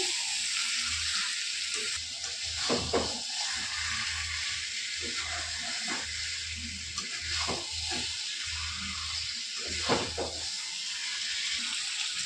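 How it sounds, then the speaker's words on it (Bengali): Meat pieces frying with spices in a pot for biryani, a steady close sizzle broken by several louder scraping stirs of a spoon through the mixture. "এখন মিনু দিয়ে দিচ্ছে কিন্তু আমাদের যে মাংসগুলো সুন্দরভাবে ধুয়ে রেখেছিলাম, ওগুলো এখন দিয়ে দিচ্ছে। মশলার সাথে ভালোভাবে এটাকে মিশিয়ে দিচ্ছি।"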